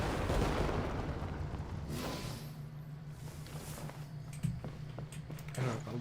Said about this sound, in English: Just random fireworks, sure.